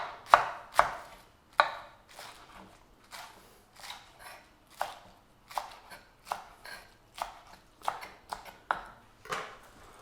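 A knife chops onions on a cutting board in a series of sharp, irregular taps, close and fairly quiet, with no talking.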